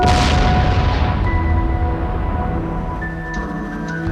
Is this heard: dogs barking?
no